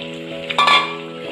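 Chicken pieces go into a pan where potatoes are already frying for a chicken curry, and a sharp burst of sizzling and stirring rises over a steady hum, close and brief.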